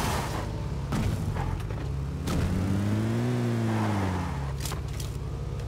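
A motorcycle engine in the PUBG Lite video game: a low, steady drone that swells as it draws near and fades away, mixed with a few sharp thuds and game background noise.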